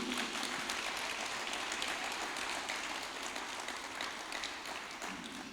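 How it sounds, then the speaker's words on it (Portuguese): Applause during a church service, a dense steady wash of many hands clapping together without pauses, moderately loud and even throughout. "Salve de palmas para Jesus."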